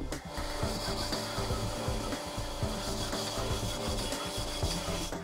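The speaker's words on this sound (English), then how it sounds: "we will hone out the bores to a final bore size of 40427 with our 220 grit diamond abrasive" Engine cylinder bores of an LS stroker being honed with 220 grit diamond abrasive, giving a steady, dense grinding and rasping with rapid chatter throughout.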